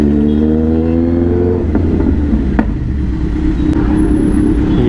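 Road traffic in Rishikesh rumbles around a motorcycle, with a steady low engine drone, nearby vehicle noise and a faint horn toot, and no voices.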